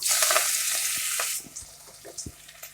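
Oil sizzles hard in a pot as a fish-sauce and salt mixture goes in to stir-fry, a loud broad hiss for the first half that drops away to scattered clinks and stirring knocks.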